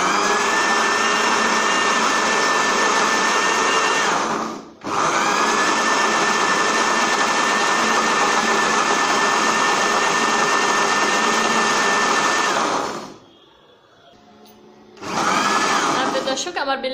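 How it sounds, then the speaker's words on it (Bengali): An electric blender grinds a mash of pointed gourd and chickpeas with a little water. It runs loud and steady with a brief dip near four seconds, stops around thirteen seconds, then starts up again. "এখন আমি এটা ব্লেন্ড করব। প্রিয় দর্শক, আমি ব্লেন্ডে বসিয়ে দিলাম।"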